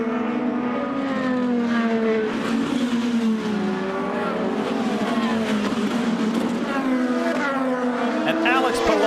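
IndyCar race cars scream around Barber Motorsports Park in Alabama during the Honda Indy Grand Prix, high engine whines rising and falling continuously as cars pass, with a commentator talking over the roar.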